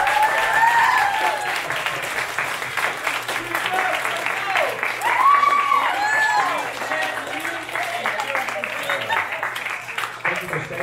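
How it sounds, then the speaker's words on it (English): A school chapel audience at Palau Mission Academy gives a long round of applause, dense and steady, with cheers and scattered voices mixed in. "Give them one more round of applause"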